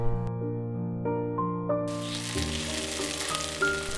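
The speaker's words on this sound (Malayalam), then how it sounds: "എണ്ണ ചൂടായ ശേഷം കടുകിട്ട് കൊടുക്കാം." Mustard seeds hitting hot sesame oil in a pan for green chilli pickle, breaking into a dense, steady sizzle and crackle after a brief quieter moment, close and continuous with no talking.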